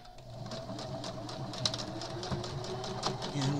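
Quilt squares are being stitched together on a sewing machine, which runs at a rapid, even rhythm with a steady mechanical hum throughout, fairly close.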